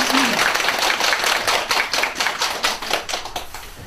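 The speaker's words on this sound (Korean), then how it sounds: "박수 한번 주시죠." An audience at a Buddhist college lecture breaks into a brief burst of clapping, a dense patter of hand claps that keeps going for several seconds in an indoor hall.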